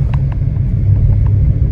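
A car rolls over a rough, uneven unpaved road, giving a low, steady rumble close by with small bumps and knocks scattered through it.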